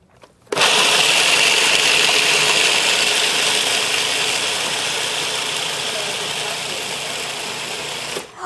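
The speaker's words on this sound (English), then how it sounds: "I'm just going to go ahead and process that until it is like a coarse flour" A food processor grinds raw dessert ingredients toward a coarse flour, a loud continuous whirring and rattling grind that starts abruptly, runs steadily for about eight seconds with a gradually easing tone, then cuts off.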